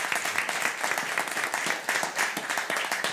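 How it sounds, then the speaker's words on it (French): Studio audience applause on a French comedy quiz show, dense continuous clapping, loud and close, filling the whole short stretch without a break. "On peut les applaudir"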